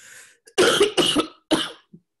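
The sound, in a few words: cough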